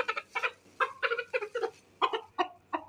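A rooster clucks in short, repeated bursts, close and clear, with brief pauses between the calls.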